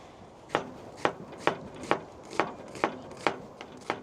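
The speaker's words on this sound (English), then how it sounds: "I'll keep chopping me dinner. All right. 1 onion." An onion being chopped with a very sharp knife on a board, eight crisp, evenly spaced cuts about half a second apart, close and fairly quiet with no talk.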